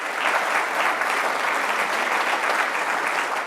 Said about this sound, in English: a round of applause to them all